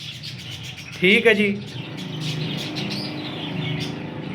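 Kasuri breeder pigeons with dab markings give a brief burst of bird calls close by, rising over steady background noise while someone talks throughout.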